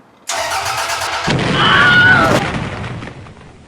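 A Toyota MR2 engine with no exhaust and no air filter cranks and catches, then roars up loudly and harshly before settling back down, close by.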